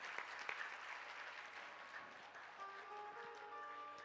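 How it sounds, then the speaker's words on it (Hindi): An audience at a Hindu devotional discourse claps steadily for a few seconds, a soft, even patter heard from some distance. "ताली बजा दो"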